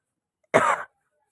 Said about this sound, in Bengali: সত্যি কথা বলতে এখনও খুব কাশি হচ্ছে